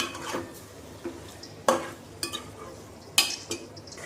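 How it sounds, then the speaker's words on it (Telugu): Mutton pieces for korma being stirred in hot oil in a pot, with a soft sizzle beneath intermittent sharp scrapes and knocks of the spoon against the vessel, close and moderately loud, no talking. "ముక్క కూడా కలర్ మారే వరకు ఫ్రై చేసుకుంటూ ఉండాలండి మనం ఇలాగే ఆయిల్లో"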